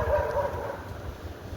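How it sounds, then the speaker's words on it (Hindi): A street dog barks a few times close by at the start, the barks trailing off into outdoor background noise. "अब ये देखो आ गई भौंकते भौंकते"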